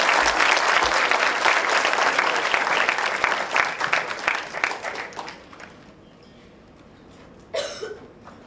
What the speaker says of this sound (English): Let's welcome Parijoy with a loud applause.